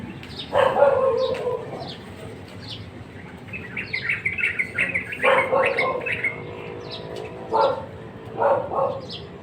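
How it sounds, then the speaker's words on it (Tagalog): Birds chirp in repeated bursts of bright, twittering calls, some near and some farther off, with a dog barking at times amid steady background noise. "Mga visitors natin ng mga ibon."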